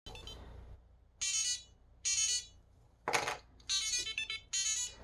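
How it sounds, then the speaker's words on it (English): A Samsung SmartTag key finder rings its audible alert in five short, bright chiming bursts with brief gaps between them, loud and close, with no voices. "you can click on the sound button, and it's going to ring your keys"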